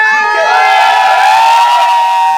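An audience cheers and shouts at the premiere of the Punjabi film Punjabi Aa Gaye Oye: a steady, loud wall of crowd voices with whoops, sustained without a break.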